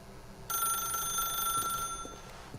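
A telephone rings in The Stanley Parable video game, a bright electronic bell trill that starts abruptly and continues steadily for about two seconds over a quiet background.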